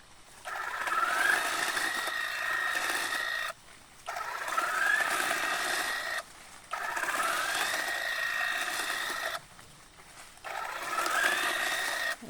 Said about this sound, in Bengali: এই যে প্রথমবারে টি প্লাকিং মেশিন